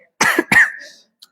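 A woman lecturer coughs twice in quick succession during a religious talk. The coughs are close, loud and sharp, followed by a short pause.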